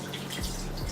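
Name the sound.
rinsing face with water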